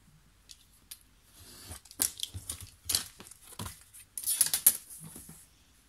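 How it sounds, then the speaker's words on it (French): Scissors cut through material in a few close, crisp snips and rustles separated by short pauses, with faint handling noise around them. "Je vais couper également par là."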